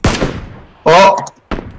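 Gunfire in a battle royale video game, three sharp bursts of shots in under two seconds, loud and close, with a voice speaking between them.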